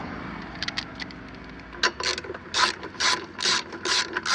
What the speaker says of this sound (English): now I'm going to go ahead and put the nuts back on.